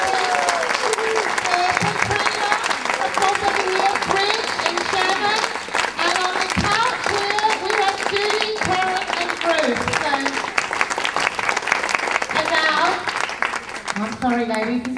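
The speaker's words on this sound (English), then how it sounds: "I would like you to give simultaneous applause to appreciate the work of the women today that have come together to debate the topic" An audience applauds at the close of a women's debate at a health and well-being expo. Loud, continuous clapping runs throughout, with talk and cheering voices carrying on over it.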